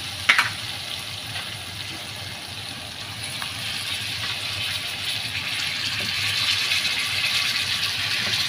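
Brinjal and tomato pieces frying in oil in a pan for a tangy brinjal curry, a steady broad sizzle that swells slightly louder toward the end, with a brief clatter near the start and no talk.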